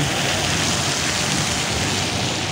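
Light drizzle falling outdoors at night makes a dense, steady hiss with no breaks, moderately loud and even throughout, with no voices.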